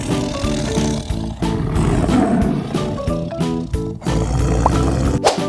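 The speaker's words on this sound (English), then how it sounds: "Tiger." A tiger lets out a rough, growling roar that sits low in the mix, partly buried under a busy, rhythmic music track that keeps playing through the whole stretch.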